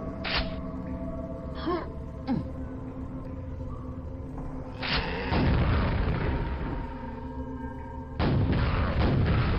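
Rocket launcher blasts in Quake: several deep booming explosions with broad crashing bursts, the later ones long and rumbling, over a low steady game hum.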